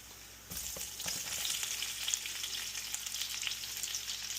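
Onions hit a hot pan while blue crabs are being cooked, setting off a sudden steady sizzle that carries on evenly, close by, with light stirring knocks and no talking.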